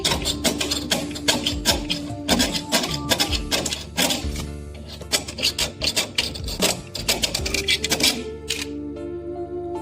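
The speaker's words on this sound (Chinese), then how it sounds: "拿篦子刀给它划开" A knife scraping and slicing into a painted copper return pipe from a forty-year-old refrigerator, with repeated close rasping strokes in an uneven rhythm and no talk.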